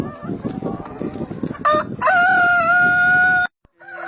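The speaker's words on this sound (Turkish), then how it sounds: "Bizde iki ırk tavuk var." A rooster crows loudly and up close on a farm in Aydın, Turkey, a long drawn-out call rising over a busy backdrop of clucking hens.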